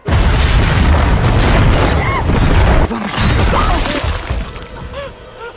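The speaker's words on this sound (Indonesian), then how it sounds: "aliran listrik itu konslet, sehingga rumah itu meledak" A loud, rumbling blast as a house explodes from an electrical short circuit in the film Final Destination Bloodline, with crashing debris and a sustained roar for several seconds before fading, with a few faint higher sounds scattered through.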